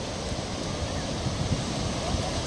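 Sea waves wash onto a clean beach on the Konkan coast at Are Ware near Ganpatipule, a steady broadband surf roar mixed with wind buffeting the microphone, with no clear breaks between waves.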